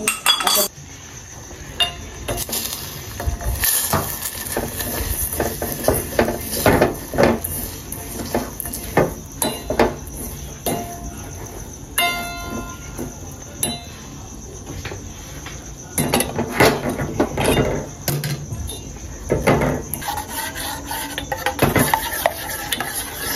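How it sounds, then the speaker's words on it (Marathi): A spoon stirring cornflour into milk in a pan for basundi, with repeated clinking and scraping strokes over a constant high insect-like whine, close by and without speech. "जे कॉर्नफ्लॉवर आहे ते आपण ह्याच्यामध्ये मिक्स करून घेऊयात"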